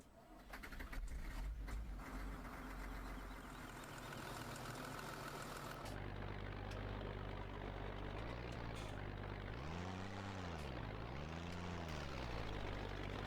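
A beastly tractor plows a field in the video game Farming Simulator 17. Its engine drones loud and steady, and the pitch sweeps up and down several times as the revs rise and fall.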